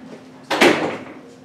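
A single door closes with a short, solid thump and brief rattle, fairly close and alone in a quiet room.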